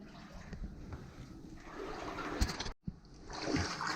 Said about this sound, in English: Bruce, look at the waterfall